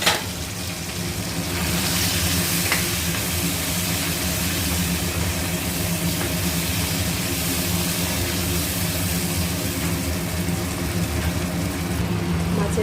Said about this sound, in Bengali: মাছের তেলটা এইভাবে ভেজে নিতে হবে।